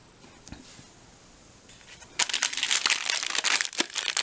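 Plastic packaging from a South African firefighter ration pack crinkles nearby, first in a few light taps and rustles, then in a loud continuous burst of crackling handling.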